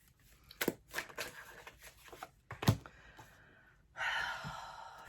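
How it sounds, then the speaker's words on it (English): Tarot cards being shuffled by hand, soft riffles and slaps in short bursts, close and quiet, ending in a longer continuous rustle. "I just want to shuffle one more time."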